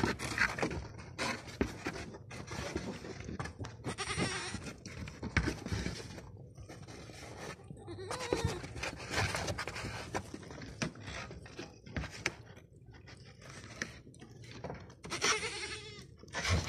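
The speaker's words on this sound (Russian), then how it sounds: "Козлятушки." Young goats bleat repeatedly inside a barn, several overlapping calls near and far, with rustling, shuffling and panting between them.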